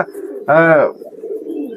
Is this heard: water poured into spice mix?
no